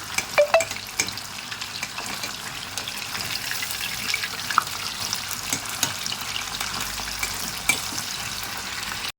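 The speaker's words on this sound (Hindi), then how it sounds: "देखें चिकन हमारा ये हो गया फ्राई" Chicken pieces frying in hot oil for a crispy cheese chicken starter, giving a steady broadband sizzle throughout with a few faint clinks, no talking.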